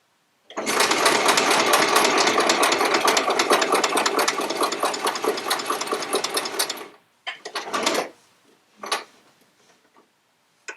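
A sewing machine stitches quilt pieces in a fast, steady mechanical whir for about six seconds, then stops, followed by a few short bursts of stitching with brief pauses in between.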